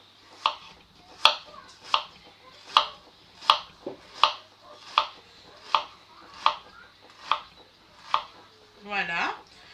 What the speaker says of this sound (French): nous allons émincer notre oignon